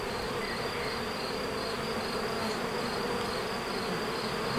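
Honey bees buzzing at a hive during a difficult beekeeping year, a dense, steady drone of many insects close by, unbroken and even in loudness for the whole stretch, with a brief knock at the very end.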